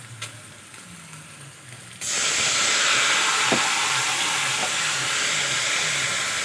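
Water poured into a hot pan of hilsa fish curry with taro, potato and eggplant sets off an abrupt, loud, steady hiss that continues without letup after a quieter lead-in.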